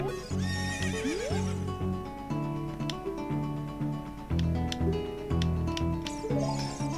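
A horse in The Legend of Zelda: Ocarina of Time 3DS whinnies with a rising then falling neigh, followed by steady clip-clop hoofbeats and scattered game sound effects, loud and continuous without speech.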